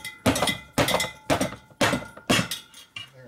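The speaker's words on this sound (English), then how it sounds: "And you go like this and hit it with a hammer." Five sharp, ringing hammer blows on metal during a 1965 Harley-Davidson Panhead 74ci FLH motorcycle repair, evenly spaced about half a second apart, close and loud, each with a brief metallic decay.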